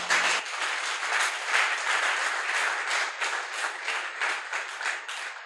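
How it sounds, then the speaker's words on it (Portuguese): Church congregation clapping loudly and continuously during a worship service, a dense sustained wave of applause that swells and surges with no speech on top. "Aplaude forte ao Senhor."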